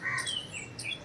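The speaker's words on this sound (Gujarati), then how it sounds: "ચકલીના બચ્ચા હા બોલ બોલ કરે।" Sparrow chicks chirp in a few quick, high tweets, fairly close but soft, with no talking over them.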